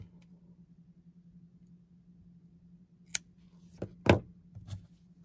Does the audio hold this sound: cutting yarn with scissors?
yes